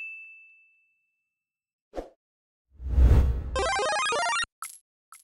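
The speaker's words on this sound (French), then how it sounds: "activer la cloche pour ne rater aucune des vidéos à venir" A notification bell dings once, followed by a clanging burst and a short bright chiming jingle, then two brief final tones, loud and close with no speech.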